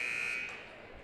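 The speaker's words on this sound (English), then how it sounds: "Almost have this double buzzer sound going on here." A worn, banged-up scoreboard console at a high school boys' basketball game gives a harsh, steady buzzer tone that cuts off after about half a second, leaving faint gym ambience.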